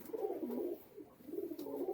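Madras dobaj pigeons cooing close by, two rounds of soft, rolling low coos separated by a short pause, with no voices over them.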